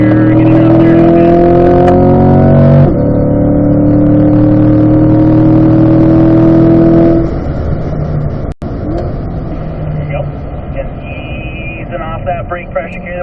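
A race car engine revs hard and climbs through the gears down a straightaway, loud and close in onboard fashion, with a shift partway through; a voice talks over it near the end.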